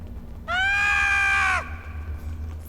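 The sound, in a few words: Ferengi screaming in video game Star Trek Online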